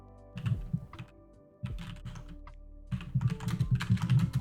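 Rapid clattering keystrokes on a computer keyboard come in three bursts of hard typing with short pauses between them, close and fairly loud, with no talking.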